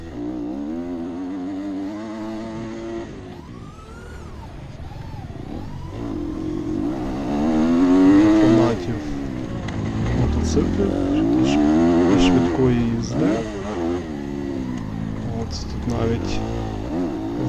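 A motocross motorcycle engine in the TRYP FPV drone racer simulator game revs up and down repeatedly with rising and falling pitch, under a person talking.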